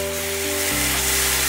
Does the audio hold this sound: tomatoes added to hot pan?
yes